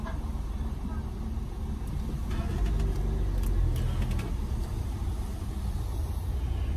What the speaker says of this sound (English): Driving through the drive-thru,